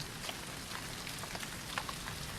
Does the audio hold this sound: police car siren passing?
no